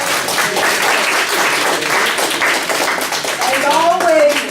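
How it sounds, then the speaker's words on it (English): Audience applause after a presentation on the opioid crisis at a lunch-and-learn event, steady dense clapping filling the room for several seconds, with a voice rising briefly near the end. "A big round of applause for Ms."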